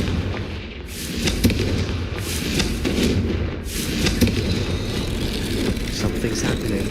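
Confringo fire spell blasts in the Hogwarts Legacy video game, heard as a dense run of loud booming explosions and crackling impacts over a constant rumbling battle din.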